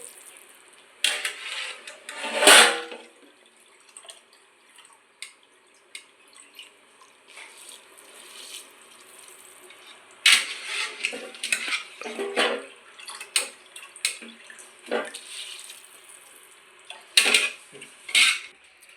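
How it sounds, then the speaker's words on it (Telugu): Soaked rice tipped into a pot of boiling water and stirred, giving scattered metallic clinks, splashes and watery stirring sounds in irregular bursts, close and alone. "ఈ వాటర్ మరుగుతుంది, అందులో మనం నానబెట్టుకుని రైస్ వేస్తున్నామండి."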